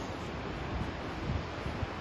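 Selfoss waterfall in Iceland gives a steady, continuous roar of falling water with a low rumble underneath, heard alone with no voices.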